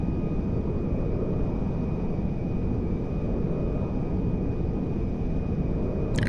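Steady, unbroken jet engine roar from a B-2A Spirit stealth bomber on final approach to a runway in GTA 5, engines held at neutral power, a dense constant rumble with a faint high whine throughout.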